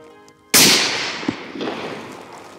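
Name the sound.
rifle shot at fallow deer calf while hunting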